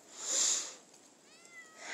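A domestic cat meows once, loud and close, with a second fainter, drawn-out meow following toward the end in an otherwise quiet indoor setting.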